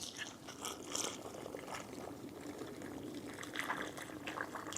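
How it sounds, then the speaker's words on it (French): Water poured from a watering can onto sifted potting soil prepared for tomato seedlings, a soft steady trickle and splash close by, running without pause and with no talking. "j'ai commencé à arroser mon terreau à semi-tamisé"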